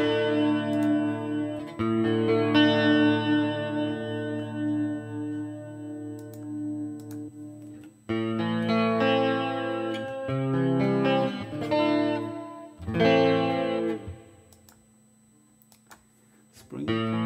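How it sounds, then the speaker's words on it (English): Distorted electric guitar chords through a Valeton GP200 ring out with a shimmering, wobbling modulated reverb that slightly detunes the sustained notes, in several bursts with pauses. "It's kind of modulation reverb. Can you hear the detuning effect?"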